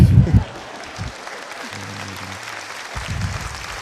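Applause from a stand-up comedy audience, a broad wash of clapping fading in and out across the stretch, with low voices and a brief tonal hum in the middle.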